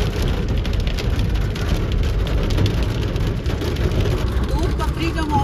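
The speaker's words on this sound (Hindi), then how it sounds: "देख सकते हैं गाड़ी में लगातार ओले पड़ रहे हैं।" Hailstones drumming steadily on a car body during a sudden mountain storm at Doodhpathri, Kashmir, a dense continuous patter close by filling the whole stretch, with faint talk underneath.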